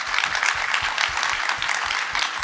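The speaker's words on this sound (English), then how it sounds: "That deserves an applause." An audience at a public hearing applauds, a dense, even wash of many hands clapping at once, sustained and moderately loud throughout.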